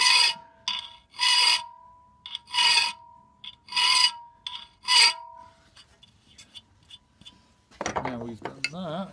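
Metal file rasping across the steel pick of an ice axe while sharpening it, in several loud, steady strokes with short pauses between them, followed by softer scraping and a brief clink of metal.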